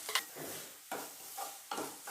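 Crushed coconut and green chili frying in oil in a pan, with three regular stirring strokes that scrape and sizzle close by, and no voices.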